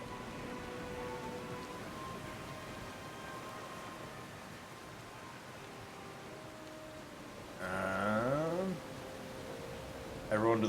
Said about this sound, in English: The wind calms, but the rain pours from the sky.